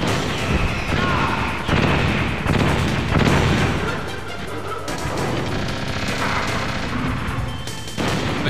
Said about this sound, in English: Machine gun I can cope with.